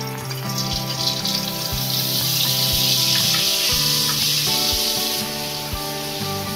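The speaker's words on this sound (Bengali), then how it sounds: "চিকেন ভাজা তেলের মধ্যে আমি বাটার দিচ্ছি" Butter melting into hot oil left from frying chicken gives a steady, airy sizzling hiss that holds throughout beneath background music.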